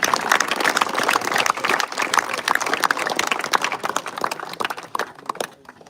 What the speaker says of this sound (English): So a big round of applause for Rob.